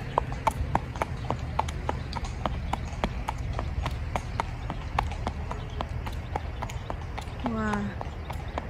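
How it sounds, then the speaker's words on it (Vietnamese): A horse's hooves clip-clop steadily across a field at a walking pace, producing a regular series of crisp hoof beats with people talking intermittently alongside. "Cô gái cưỡi ngựa rất là dễ thương luôn"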